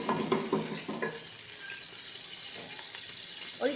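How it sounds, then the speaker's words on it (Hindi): Ghee going into a pan for wheat kheer sets off a soft, steady sizzle and hiss, with a few light clinks and scrapes near the start and again at the end. "सबसे पहले हम इसमें घी ऐड करेंगे"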